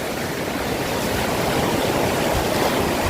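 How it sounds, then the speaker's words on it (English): Loud, steady rush of a village waterfall in Kenya, broadband roaring water filling the whole span without a break and drowning out any voices. "there's a lot of noise in this water because of this fall"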